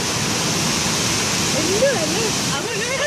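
A raging waterfall in India roars with dense, steady rushing water, loud and close throughout, with a faint tonal whistle or voice briefly audible beneath the torrent.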